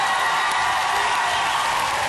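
Applause from an audience for children after a stage performance, a dense, even wash of clapping sustained at a steady level from start to end.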